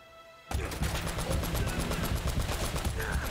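Rapid gunfire from enemies shooting at the player in Uncharted: Drake's Fortune, a loud, dense burst of repeated shots that bursts in abruptly after a brief quiet and keeps rattling steadily to the end.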